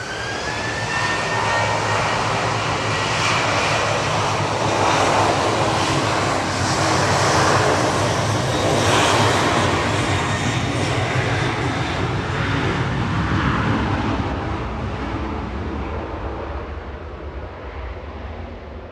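easyJet jet engines spool up at Manchester Airport, a loud, rising whine and roar that holds strong through the middle, then eases slightly while staying continuous, with no voices.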